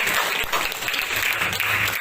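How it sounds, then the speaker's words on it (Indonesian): A class of students claps together during an Indonesian school lesson, a steady, dense patter of hands that fills two seconds at an even level with no talking. "tepuk tangan untuk kita semuanya"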